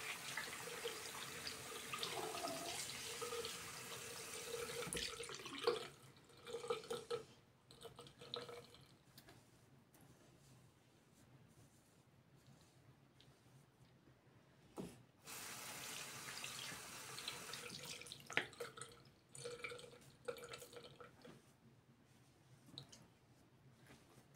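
Water runs from a bathroom tap during an evening skincare routine as a face is rinsed, a steady rushing stream broken by splashes and drips, easing off mid-clip and then surging again.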